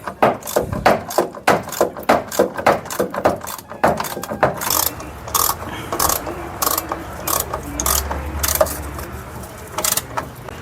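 Ratcheting wrench clicking on the 13mm bolts of a spare tire carrier on a 2002-2008 Dodge Ram, rapid rhythmic ratchet bursts up close, later mixed with metallic clinks and handling noises, no talk.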